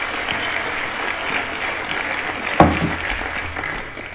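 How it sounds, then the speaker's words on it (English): A conference audience at a security talk applauds in a steady patter of clapping, with a brief louder burst near the end before it fades. "Please give a big round of applause"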